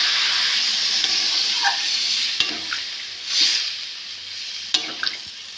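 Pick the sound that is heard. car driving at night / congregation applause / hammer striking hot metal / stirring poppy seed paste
stirring poppy seed paste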